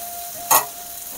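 Ripe papaya with poppy seeds is stirred in a frying pan, giving a single brief scraping swish over a faint, steady sizzle.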